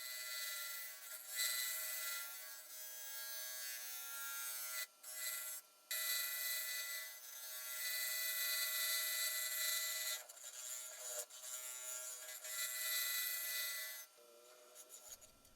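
A woodturning lathe cutter shaves a spalted apple and resin lidded box with a steady, loud scraping hiss that runs nearly continuously. It breaks off briefly a few times and falls quiet just before the end.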